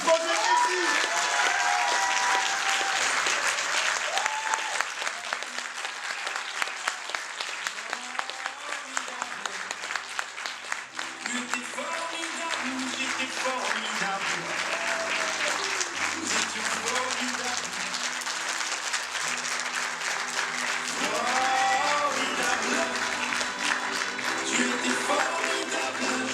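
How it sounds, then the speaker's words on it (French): A theatre audience applauds steadily for the young performers of a youth project at a live show, sustained clapping from a full house with a brief cheer or voice rising over it. "je vous demande un tonnerre d'applaudissements pour les jeunes du projet Réussite"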